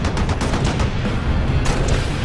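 Rapid turret gunfire in the Halo Reach video game fires as a dense, loud, continuous stream of sharp shots with no pauses.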